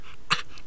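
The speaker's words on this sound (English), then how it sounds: "He has a weird bark." A single short, sharp bark from a young puppy indoors, one brief burst rising above a quiet room hiss, with no talking during it.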